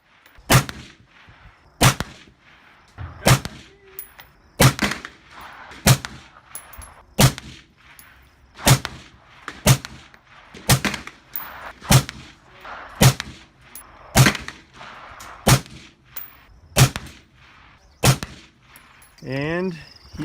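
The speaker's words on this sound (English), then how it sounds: "Now we're just gonna shoot this one because why not?" Repeated rifle gunshots fired at a rifle-rated glass pane, about fifteen loud, sharp cracks spaced roughly one to one and a half seconds apart, each with a short ringing tail against quiet room tone.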